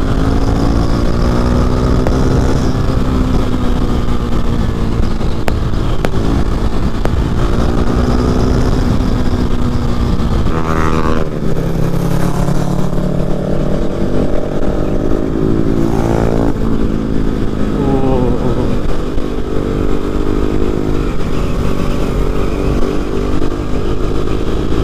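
Motorcycle ridden on a winding hill road, engine loud and close throughout, rising and falling revs with gear changes and throttle blips through corners, steady wind noise, no talk.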